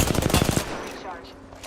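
Video game gunfire, a quick burst of about six or seven rapid shots in the first half second, then a fading tail with faint background noise.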